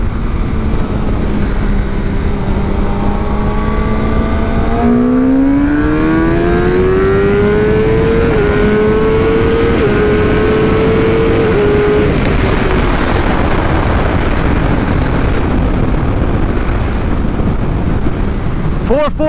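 A tuned 2019 Kawasaki ZX10R motorcycle accelerates uphill: a loud, continuous engine note climbs steadily in pitch, then holds high and rough as the bike pulls on.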